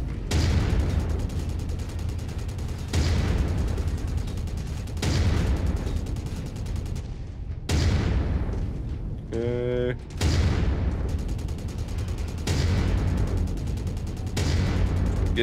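Mech weapons firing in the video game Mechwarrior 5: Mercenaries, a run of heavy, booming volleys, each a loud burst that decays over about two seconds, with a brief rapid rattling burst midway and someone talking at times.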